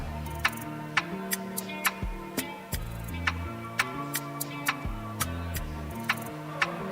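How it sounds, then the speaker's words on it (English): A clock-ticking countdown effect during a live poetry challenge show: crisp evenly spaced ticks about twice a second over a pulsing synthetic tone pattern, clear and upfront with no talking. "the time is ticking. Tick tock, tick tock, tick tock."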